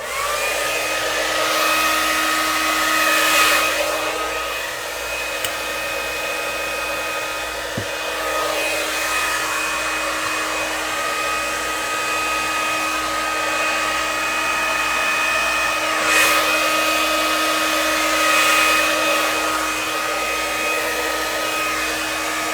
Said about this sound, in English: I'm going to be turning on my hair dryer,